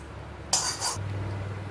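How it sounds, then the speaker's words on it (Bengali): A metal wok is set down on a gas stove in a home kitchen with a brief clanking clatter, followed by a steady low hum from the lit burner. "আমি এখন গ্যাস অন করে একটা কড়াই চাপিয়ে দিচ্ছি"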